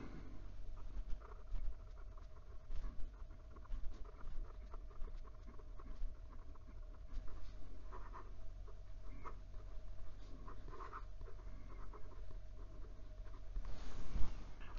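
A Penbbs Niangao fountain pen with a fine steel mini fude nib scratches across paper in soft, continuous strokes with small taps and pauses as a quote is written. The writing is quiet and close, with no talking.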